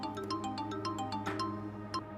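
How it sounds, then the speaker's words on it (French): Mobile phone ringtone playing a repeating electronic melody of short bright notes, moderately loud and steady, heard alone without speech. "Pourquoi tu ne réponds pas à ton téléphone devant moi?"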